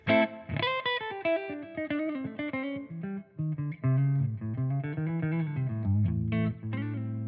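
Vigier GV Wood electric guitar on the neck humbucker through a modeled amp, played alone as a clean, ringing melodic line with sustained notes and a warm, rounded tone.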